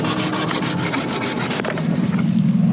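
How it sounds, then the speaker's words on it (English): A hacksaw rasping back and forth through tough material while working on a large intercooler, a close, continuous rhythmic scraping with steady strokes that slows and fades toward the end. "let's go see how the hacksaw's going. Is it cutting?"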